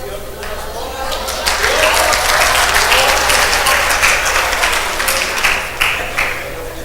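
An audience at a medical lecture bursts into sustained applause that swells after a moment and holds, dense and fairly loud, with a voice speaking over it.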